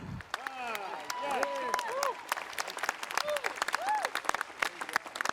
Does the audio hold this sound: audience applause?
yes